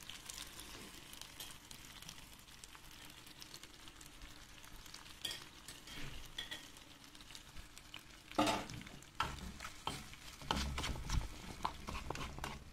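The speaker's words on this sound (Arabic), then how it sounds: "بدي احركهم مع بعض عليهم معلقتين صلصة" Pig trotters being stirred with two spoons of tomato paste in a pot, giving soft scraping and sizzling with occasional louder clinks and clatters of the spoon, continuous and fairly close.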